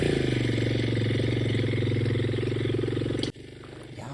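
A motorcycle engine runs loud and close with a steady throbbing idle, then cuts off abruptly near the end.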